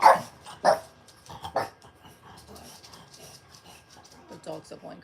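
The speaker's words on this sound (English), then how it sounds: "The dogs are going crazy because somebody passed by that they didn't like." Several dogs bark sharply at a passerby, with loud, close bursts at the start followed by scattered smaller barks and yips, while a person keeps talking over them.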